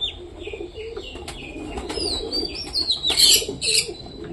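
Pigeons coo softly and repeatedly at close range, low murmuring calls mixed with brief higher chirps and a little wing rustling, with no talk.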